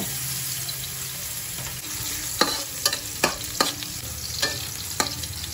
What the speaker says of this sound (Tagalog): Igisa na natin ngayon itong hiniwang luya.